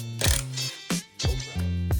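A Makita 1/2-inch drive impact wrench with a Snap-On medium-reach impact socket spins wheel lug nuts off an Audi Allroad during a tire swap, firing in three or four short, loud rattling bursts with brief pauses between them.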